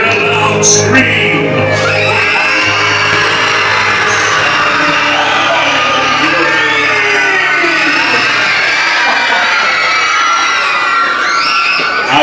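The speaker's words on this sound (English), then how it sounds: "Let me hear a loud scream." A large crowd of cruise passengers at a Halloween event on a Disney Magic cruise ship screams and cheers loudly and without a break, with high shrieks and whoops blending into one continuous roar.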